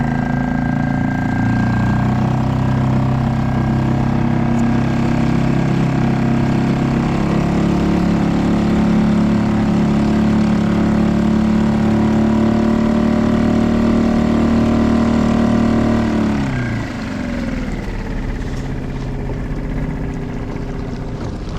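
Two small motors on a fishing kayak drone steadily over water, a constant engine hum that shifts pitch and drops slightly near the end.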